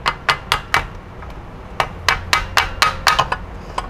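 A hammer taps a part out of an electric planer whose blade is stuck and will not spin: four quick sharp knocks, a short pause, then a faster run of about nine more, loud and close.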